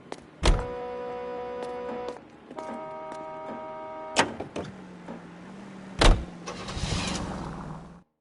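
Car sounds from L.A. Noire: a door thunks shut, tonal chimes ring, and another thunk follows before an engine starts and revs, rising loud near the end.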